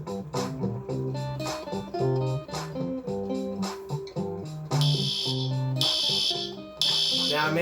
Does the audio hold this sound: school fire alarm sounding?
yes